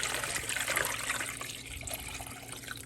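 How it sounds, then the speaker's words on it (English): Water pouring into a cooking pot for Cuban ropa vieja with peppercorns, a steady splashing rush that softens slightly as the pot fills, close and continuous. "I'm going to add a whole bunch of water"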